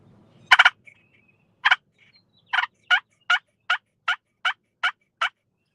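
A push-button turkey call gives a string of about ten clucks and yelps imitating a wild turkey, the first bursts grouped and the rest in a steady, evenly spaced run, loud and close in quiet woods.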